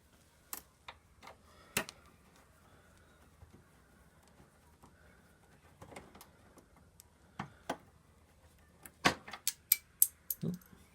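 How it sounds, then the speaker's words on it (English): Hand tools work a bolt loose from a plastic motorcycle fairing in quiet, scattered metallic clicks and ticks, growing into a quicker run of sharp taps near the end. "let's go and get this bolt out"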